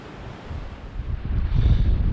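Strong gusts buffet the microphone on an open countryside walk along a disused Cumbrian railway near Smardale Gill Viaduct, a deep rumbling roar that swells louder in the second half.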